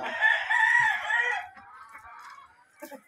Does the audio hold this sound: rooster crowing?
yes